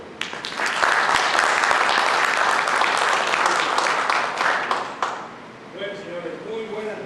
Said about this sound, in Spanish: Pido a ustedes recibamos con un aplauso